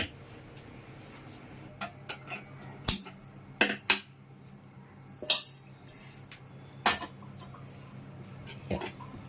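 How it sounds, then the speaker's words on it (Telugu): Steel cookware in a home kitchen clinks and clatters as a vessel is set onto a gas stove, several sharp metallic knocks spaced irregularly over low room hum, no talking. "ఒక గిన్నె పెట్టుకున్నానండి స్టవ్ వెలిగించి"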